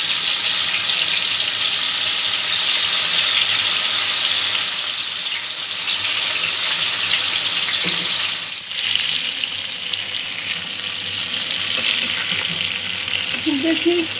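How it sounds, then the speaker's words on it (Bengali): Hilsa fish pieces fry in a pan with a loud, continuous sizzle, with a brief clatter partway through as they are turned. "মাছগুলো একটু এপিট ওপিট করে ভেজে নেব।"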